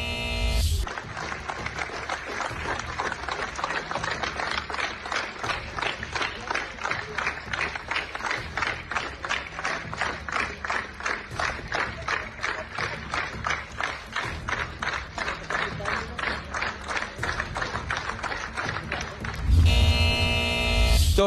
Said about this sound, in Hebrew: אלה היו מחיאות כפיים ליהודה ברקן, זכרו לברכה, שהלך לעולמו